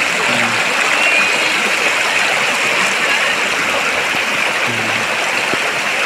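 Clear flowing stream water rushes steadily and loudly nearby, a constant broadband hiss and gurgle, with faint voices briefly heard beneath it.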